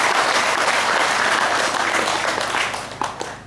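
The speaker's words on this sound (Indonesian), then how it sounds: "Tepuk tangan dong." Audience applause at a Buddhist teaching session on guru yoga, a dense, steady wash of many hands clapping that holds loud and then tapers off near the end, with no talking over it.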